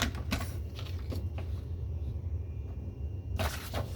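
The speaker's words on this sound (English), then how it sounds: "And I'm going to cut 2 1-inch strips" Paper being cut into one-inch strips for a scrapbook layout, with sharp crisp snips and slicing strokes at the start and end and a quiet low hum in between.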